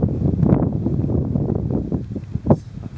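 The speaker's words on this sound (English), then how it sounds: "the wind's getting up a wee bit as well" Gusty wind buffets the microphone outdoors in the winter Scottish mountains near Loch Treig, rising and falling in rough, close rumbles over about three seconds, with one stronger gust toward the end.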